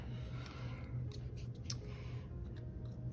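Scissors make several quiet, close snips while cutting stickers for a Hobonichi Cousin planner, with a few light clicks in a soft room.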